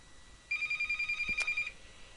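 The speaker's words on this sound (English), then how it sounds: "ignore the telephone ringing" A telephone rings indoors in one steady, bright electronic burst lasting about a second, heard alone at moderate volume against a quiet room.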